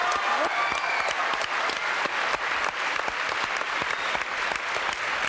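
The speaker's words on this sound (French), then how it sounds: "Applaudissements pour Jacqueline, mesdames, messieurs." Studio audience applause on a French TV game show, a steady dense wash of clapping with a few faint voices and cheers mixed in, lasting throughout.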